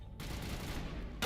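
A sniper rifle shot in the video game Mass Effect Legendary Edition: a dense, loud blast of gunfire that sustains across the clip and ends in a sharp burst at the close, with no talking.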